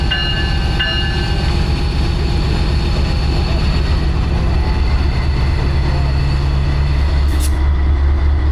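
A long passenger train carrying cars rumbles steadily nearby as it pulls forward, low heavy mechanical drone with faint squeals and clanks of cars rolling, no voices.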